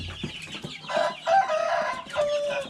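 Free-range chickens and roosters cluck and squawk nearby while being fed, a busy, uneven cackling that comes in several louder bursts, with no talking.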